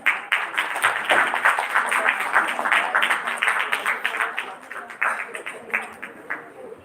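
An audience at a live dental event claps to welcome a speaker, a steady, fairly close round of applause that continues for several seconds, with a voice heard over it.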